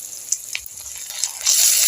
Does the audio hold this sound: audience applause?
no